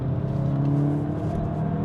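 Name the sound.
VW Golf GTI Mk8.5 engine revving under throttle in first gear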